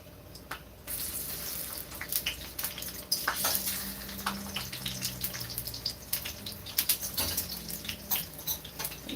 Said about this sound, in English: So we're frying some plantains here.